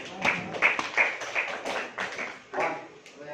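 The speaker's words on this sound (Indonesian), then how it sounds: "tepuk tangan buat kita semuanya." Students in an Indonesian classroom clap together in a loose, rhythmic burst of distinct hand claps, mixed with raised young voices calling out over the clapping.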